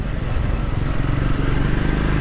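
A Triumph Scrambler 400X motorcycle engine runs with a steady, dense rumble, close and loud without a break.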